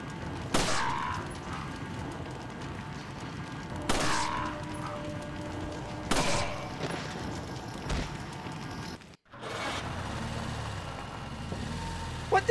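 Gunfire in Resident Evil 4, with sharp shots striking at intervals of roughly every two to three seconds over a steady game soundscape, ending in a brief drop to silence.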